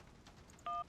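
A single short telephone keypad tone beeps as a number is dialed in the video game Syberia, sounding clearly over a faint, quiet background.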